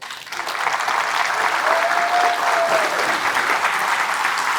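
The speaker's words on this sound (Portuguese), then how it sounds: "Uma salva de palmas aqui para vocês." Loud, dense audience applause at a supermarket business lecture, building quickly and holding steady for several seconds, with a brief whistle-like tone midway.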